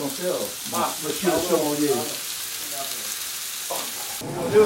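Meat sears on a hot grill at an outdoor dinner party, a steady crackling sizzle running throughout while people talk over it.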